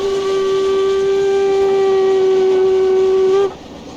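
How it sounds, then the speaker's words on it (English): A steam locomotive whistle on the Brockenbahn line from Wernigerode to the Brocken in Train Simulator Classic gives one long, steady, loud blast of about three and a half seconds, then cuts off abruptly, leaving quieter engine background. "the whistle itself doesn't sound that bad"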